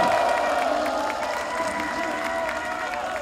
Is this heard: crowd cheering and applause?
yes